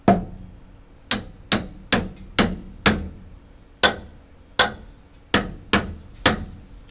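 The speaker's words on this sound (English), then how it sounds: "You can actually hear it get tight." Sharp metallic taps on a log clamp ring out about a dozen times in irregular rhythm while it is tightened on a small log, each strike close and loud with a short ringing decay.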